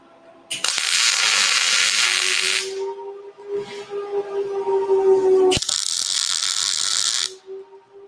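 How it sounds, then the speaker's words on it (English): MIG welding a joint on a steel shop table, two long bursts of steady crackling hiss separated by a short pause, close and loud with a faint hum underneath. "when you're welding types of joints like this, your gun has to be pointed at a 45 degree"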